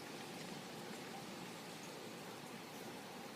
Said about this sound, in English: We are currently having a giant severe storm on top of us.